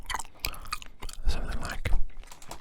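Close, wet chewing of bubblegum with soft smacks and squelches in an uneven rhythm, intimate and near as in ASMR, without speech.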